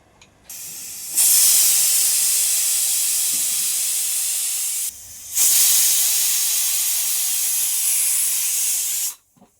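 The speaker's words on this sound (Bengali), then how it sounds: "দুটো সিটি হয়ে গেছে" A pressure cooker on a stove, cooking fish curry, lets out two long loud hissing steam whistles, each lasting about four seconds with a short gap between, close and without talk.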